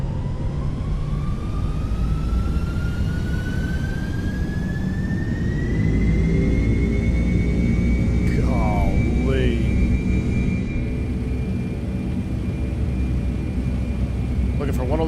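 FedEx MD-11 jet engines spool up in a flight simulator, a steady roar with a whine rising gradually in pitch and then holding, continuous and fairly loud, with a brief warbling tone partway through.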